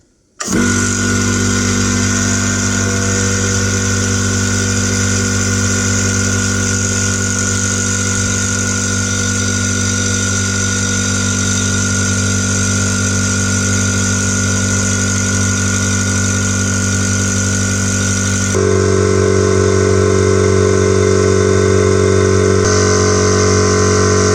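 A new 50 litre SGS air compressor starts up abruptly and runs loud and close with a steady droning motor hum, shifting in tone near the end as pressure builds, no talking.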